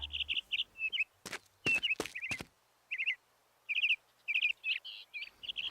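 A small cartoon bird, a little blue bird, chirps in short repeated tweets with a few sharp thuds in between, close and clear against a quiet background.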